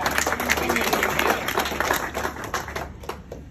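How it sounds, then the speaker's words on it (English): Dense audience clapping at a motivational talk, steady and close for the full few seconds with a busy crowd texture and no voices rising above it. "So give a round of applause to all of you guys."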